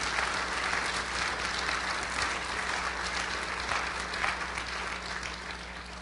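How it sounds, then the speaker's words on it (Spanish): A church congregation claps together in sustained, even applause that holds steady and fairly loud throughout, with no break. "¿Cuántos le pueden dar un aplauso a Él?"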